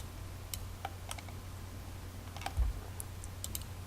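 Quiet computer mouse clicks, a scattering of light, crisp ticks at irregular intervals over faint room hum, with no voices.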